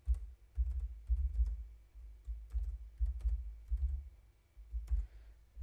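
Typing on a computer keyboard, close and clear, in uneven bursts of rapid key clicks with short pauses between them, no voices.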